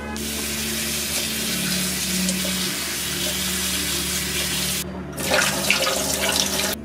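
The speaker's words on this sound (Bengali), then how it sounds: "ফুলকপিটাকে ভালো করে ধুতে হবে।" Cauliflower being rinsed under a running kitchen tap while making a Bengali malai curry: a steady, broad rush of water that runs unbroken, with a brief dip and a slightly louder splashy stretch near the end, and no talking.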